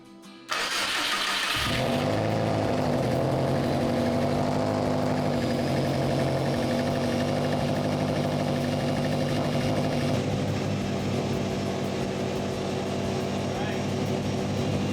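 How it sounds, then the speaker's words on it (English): A GC8 car fitted with a Tial blow-off valve cranks briefly, catches and starts, then settles into a loud, steady idle with a constant engine hum throughout. "So I'm gonna go ahead and turn on the car"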